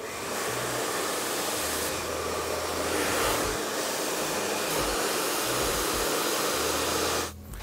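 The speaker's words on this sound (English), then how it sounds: "blow dry every single one back to try and encourage a little bit of volume at the root" A hair dryer blow-drying hair runs steadily and close, a loud continuous airy roar with slight shifts in tone as it moves, cutting off abruptly near the end.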